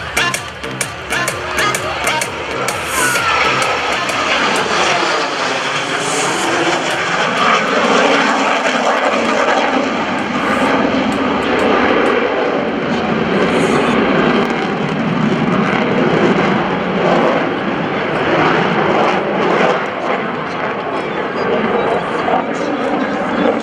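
A Hawker Hurricane fighter in Battle of Britain 75th anniversary paint making a pass at an airshow, its piston engine roaring loud and steady as it sweeps past and changes pitch, with crowd and announcer voices underneath.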